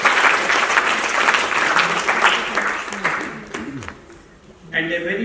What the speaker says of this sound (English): It's a big round of applause to UNFPA.